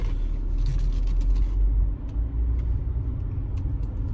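A 2006 BMW 325xi with 68k miles drives after repair, heard from inside as a steady low engine and road rumble, close and continuous with no talk.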